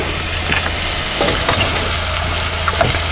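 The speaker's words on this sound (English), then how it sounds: "Now we'll add our vegetables." Ground beef, sausage and vegetables sauté in a pan for a risotto, a loud close continuous sizzle with occasional stirring scrapes and no talking.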